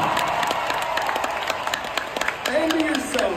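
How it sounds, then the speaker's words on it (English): An audience at a robotics competition applauds teachers and mentors, with dense clapping and crowd noise running throughout, while a voice speaks over it near the end. "So let's give a round of applause to them"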